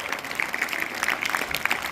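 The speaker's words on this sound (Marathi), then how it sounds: "त्यांच्यासाठी एकदा जोरदार टाळ्या वाजवायच्या." Audience applause at a felicitation event in Maharashtra, a steady patter of many hands clapping from a crowd, moderately loud and continuous for the full stretch with no voices over it.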